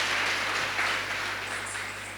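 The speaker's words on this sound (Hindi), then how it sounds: "एक बार और बहुत जोरदार तालियां।" Audience applause at a Holi celebration and cultural program, a dense, steady wash of many hands clapping that fades slightly toward the end, with no talking.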